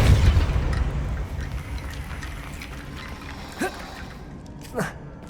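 A Depulso spell cast in the game Hogwarts Legacy, a deep booming burst that trails off into a rumble, then two short whooshing pops, with a voice speaking over the start.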